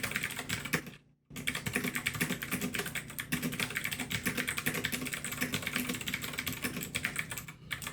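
Continuous rapid typing on a Kwumsy K2 touchscreen mechanical keyboard, dense clacking keystrokes with a brief pause near the start, close and steady.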